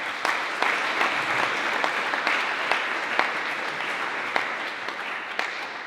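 Conference attendees at a talk on artificial intelligence in developing regions applaud the speaker, a steady roomful of clapping with a few sharper individual claps standing out throughout.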